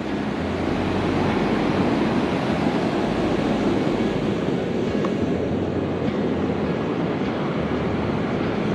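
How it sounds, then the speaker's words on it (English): Ocean surf floods up a beach with a steady, broad roar of rushing water, loud and continuous throughout with wind-like noise and no voices. "it's crazy to see that the ocean is now trying to retake it again"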